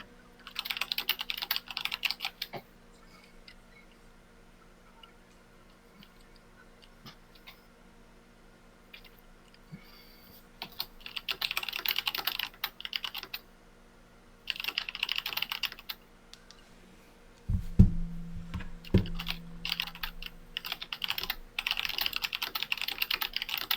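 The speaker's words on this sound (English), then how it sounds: "Your keyboard is very loud." Loud bursts of computer keyboard typing in intermittent clusters, clattering close to the mic during an online esports match, with gaps of quiet between flurries and a brief low thump near the end.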